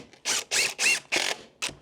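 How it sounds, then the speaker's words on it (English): A hand ratcheting driver sets screws into wood for a DIY chicken coop door in a brick barn, giving five or six close, crisp clicking bursts in an uneven rhythm. "I'll have to put a few screws in just to show who's boss."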